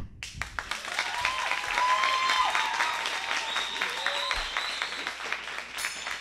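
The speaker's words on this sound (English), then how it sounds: "Number four, thou shalt clap." An audience at an open-stage show breaks into applause: dense, steady clapping from a crowd indoors, with a few whoops and cheers mixed in.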